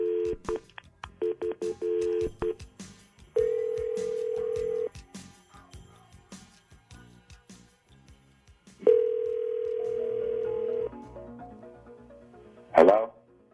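A telephone call being placed for a radio phone prank: a run of dialing tones and clicks, then two long ring tones separated by quiet pauses, and a brief crackle at the end, with no talking.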